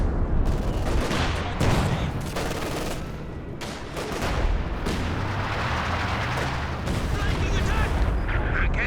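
Heavy B4 howitzer artillery booms in a Company of Heroes 2 battle, layered with dense battlefield gunfire and rumbling explosions, with someone talking over the continuous din.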